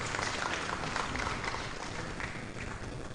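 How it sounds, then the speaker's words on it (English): A conference audience applauds, a dense, even wash of many clapping hands that holds steady for a few seconds before easing slightly. "Ladies and gentlemen, please, a round of applause"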